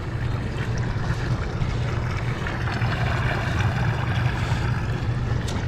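Water swirling and gurgling as it drains down a roof drain pipe after clearing with a rigid flex shaft K209 cleaner, a steady rushing churn that holds evenly for the whole stretch without any talk.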